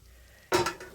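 A spoon scrapes and clatters in a pan as papaya thoran with onion leaves and Mysore spinach leaves is stirred, giving one sharp metallic clank followed by a couple of quicker scrapes.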